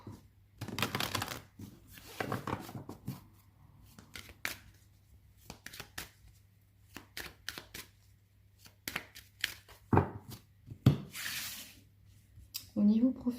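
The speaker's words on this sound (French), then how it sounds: "je mélange bien mes cartes" Oracle cards being shuffled by hand during a card reading, a run of soft papery riffles and slides in bursts, fairly close, with a voice speaking now and then between them.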